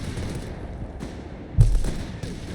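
Artillery and mortar bombardment in Company of Heroes 3, a dense rumbling barrage of distant impacts with one sharper, louder blast about two-thirds through, in steady battlefield din without talk.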